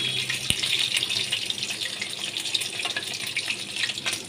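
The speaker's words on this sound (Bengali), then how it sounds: "তেলের মধ্যে আমি কচুগুলো দিয়ে দিয়েছি। এবার ভেজে নিচ্ছি।" Taro pieces sizzling in hot oil while being fried for a hilsa fish curry, a steady dense crackling hiss with a few sharper pops, close and continuous throughout.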